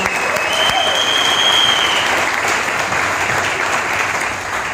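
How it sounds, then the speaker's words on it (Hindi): Loud, dense applause from an audience at a business seminar in Karnal, a steady wash of clapping with cheering and a whistle, lasting throughout without letting up. "एक बार जोरदार तालियां"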